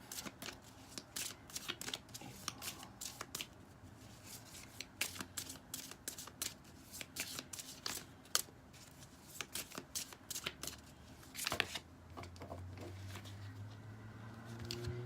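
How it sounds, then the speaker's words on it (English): A deck of tarot cards shuffled by hand at close range, with soft rapid riffles and flutters, papery slaps and rustles in irregular bursts, quiet and without talk. "We got like these cards falling out in clumps."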